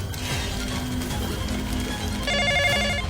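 A telephone rings with a steady electronic trill that emerges over a dense, busy background of music and noise.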